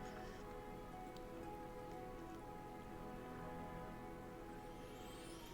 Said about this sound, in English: Oh, it's raining! It's so raining!